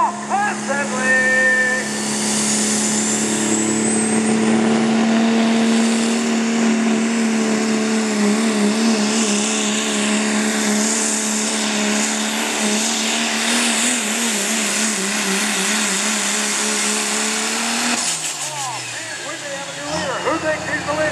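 A diesel truck at the Thunder in Muncie event in Gaston Lyons Club Park roars under load for a long, sustained pull, its engine droning loud and close before cutting off near the end, with a crowd and announcer faintly behind.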